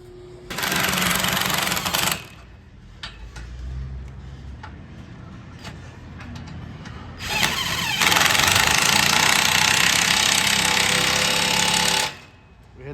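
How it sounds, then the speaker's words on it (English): A hammer knocks rust off a metal barn freestall: rapid, harsh metallic hammering in two long sustained bursts, loud and close, with a quieter stretch of scattered knocks between them. "Take the hammer and bust all this rust out"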